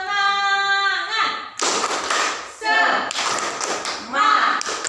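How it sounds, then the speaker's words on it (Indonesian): Pupils in a classroom perform a rhythmic spirit clap, chanting in unison and then clapping in quick, loud patterned bursts that alternate with the group voices. "Tepuk semangat."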